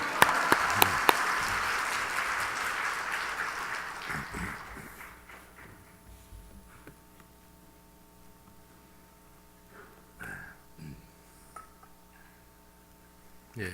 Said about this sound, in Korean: 나오실 때 할렐루야 박수하겠습니다